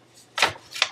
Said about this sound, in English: Key, stop playing with the papers!